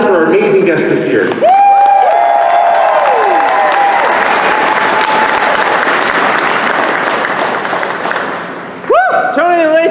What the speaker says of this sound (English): a big round of applause for our amazing guests this year